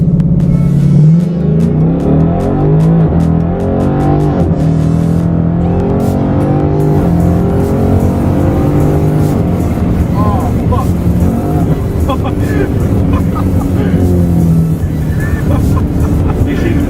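A 2018 5.0 car running nitrous on slicks accelerates hard, its loud engine roar rising and shifting through the gears continuously, while people talk inside the car over the noise.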